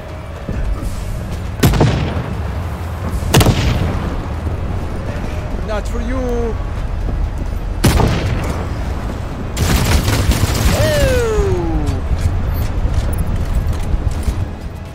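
Heavy booming grenade explosions in The Cycle Frontier shooter, several loud blasts spread over a dense continuous game mix, with someone narrating throughout and sliding effects between hits.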